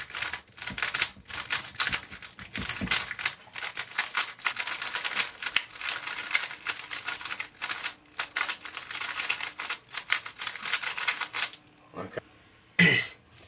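Rapid clicking and clacking of a heavily lubricated Valk Power M speed cube being turned quickly, in dense bursts close to the mic, with a brief pause near the end.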